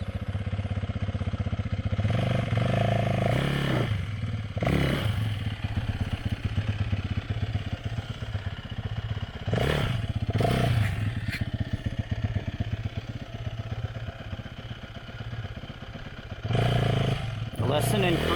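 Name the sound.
dirt bike being turned around on a narrow trail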